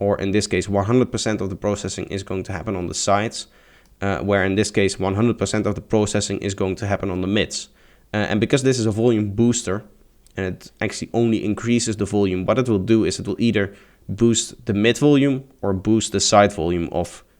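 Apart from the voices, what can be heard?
None of the usual background noises is heard.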